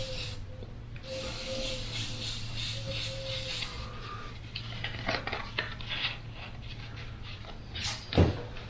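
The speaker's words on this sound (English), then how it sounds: "And you're just airbrushing away from that shield." An airbrush sprays paint in a soft continuous hiss alongside a low steady hum, with faint handling clicks and taps toward the end.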